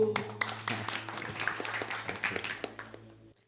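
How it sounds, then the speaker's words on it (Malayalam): Children at a Malayalam Christian kids' program do a rhythmic group "love bomb" clap, a fast burst of many small hands clapping together, moderately loud and close, lasting a few seconds over a steady low hum. "love bomb clap go"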